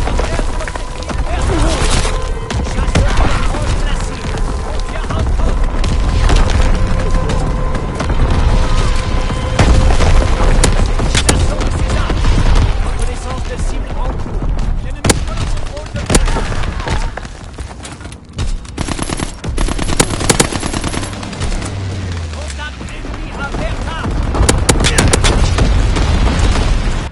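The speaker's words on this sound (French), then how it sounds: "Tir d'artillerie ennemi." Enemy artillery bombardment in a World War II shooter game: loud, dense booms and splintering blasts rolling almost without pause, with crackling debris and distant rumbling impacts throughout the barrage.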